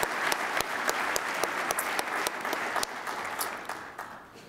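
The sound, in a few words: applause from an audience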